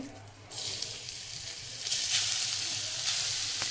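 Grated carrots fry in hot ghee for gajar halwa, a bright steady sizzle that swells louder after a brief quiet start as they are stirred.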